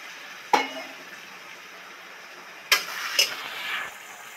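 Spiced banana flower ghonto cooks in a pan with a little added water under a faint steady sizzle, broken by three distinct clanks of a spoon against the pan.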